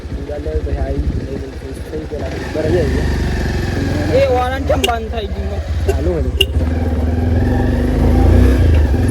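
A Bajaj Pulsar motorcycle engine idles close by and then rises in a few short revs, its loud steady rumble running under someone talking throughout.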